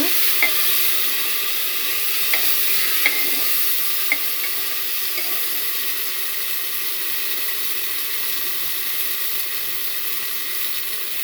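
Ground masala for avarekai kurma fries in a pan, giving a steady bright sizzle broken by a few soft clinks of stirring, close and continuous with no voices.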